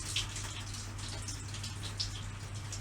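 Water runs into a washing machine drum being repaired at home, a steady close rushing hiss over a constant low mechanical hum, with scattered splashy drips.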